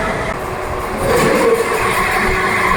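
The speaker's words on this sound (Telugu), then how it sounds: "మన ట్రైన్ వచ్చేసండి" The Sai Nagar Shirdi Express pulls into a station between Dornakal and Kazipet, a loud, steady rumble of rolling rail cars with a rise in intensity partway through and faint clatter over the tracks.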